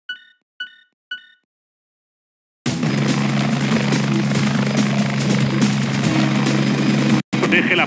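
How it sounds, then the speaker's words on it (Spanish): A helicopter in the video game Pursuit Force gives a loud, steady rotor-and-engine drone that starts abruptly after three short electronic beeps and holds until a brief cutout near the end. "Te envío en el helicóptero."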